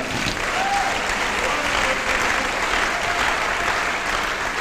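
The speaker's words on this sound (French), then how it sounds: "Ce sont les hommes de foi qui doivent croire. Acclamons notre Seigneur." Church congregation applauding during a sermon, a dense, sustained wash of clapping from many hands filling the room at steady loudness from start to finish.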